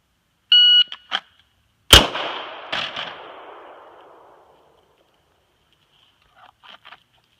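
Handgun shots fired in a quick aimed string at 7 yards from concealment: a sharp electronic start beep, then a few loud cracks with ringing decay, followed later by faint distant clanks.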